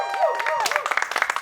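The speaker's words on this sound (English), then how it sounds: "Please give a round of applause" Studio audience applause welcoming a guest onto a talk show stage, a brief vocal sound at the start giving way to close, rapid clapping that builds through the rest of the moment.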